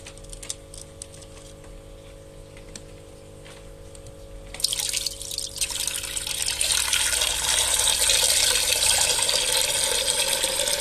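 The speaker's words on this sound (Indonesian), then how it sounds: "Selanjutnya kita tambahkan air." Water is poured into a small container used to treat a fish for swim bladder trouble. After a few quiet seconds, a steady, close splashing pour begins and grows fuller until the end.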